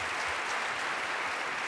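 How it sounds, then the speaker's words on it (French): An audience at the closing ceremony of the Séries Mania festival applauds, a steady, fairly soft wash of clapping from a large crowd heard alone. "On peut l'applaudir, s'il vous plaît."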